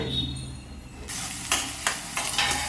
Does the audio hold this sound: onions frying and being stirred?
yes